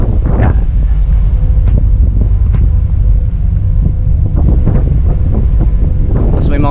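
Strong wind buffets the microphone nonstop, a loud roaring rumble with gusty bursts, outdoors in Istanbul near a waterfront.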